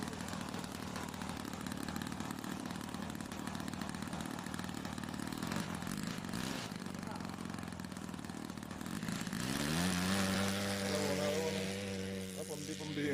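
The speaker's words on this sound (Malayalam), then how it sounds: "നമ്മളെ വിമാനം പറത്തുന്നതാ അരീക്കോട് ചാലിയാർ പുഴയുടെ തീരത്ത്" A model airplane engine runs on the bank of the Chaliyar river at Areekode, a steady buzzing drone under outdoor noise and someone talking, then rising into a louder, higher whine toward the end.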